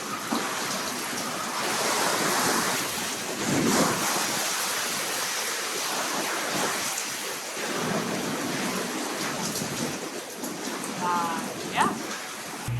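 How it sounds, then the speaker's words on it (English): Storm at a marina in Stewart, with strong gusting wind roaring over the water, waves and rain washing against boats and docks, loud and continuous with surges and a few sharp knocks, no clear talk. "A little bit of a storm going on here in Stewart today."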